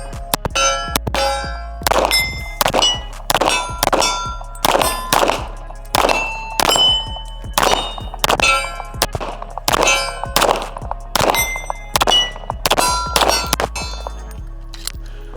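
An Infinity Easy 88 pistol fires Badlands butter shots in a steady, evenly spaced string of sharp reports, each ending in a bright metallic clang and ringing, loud and close.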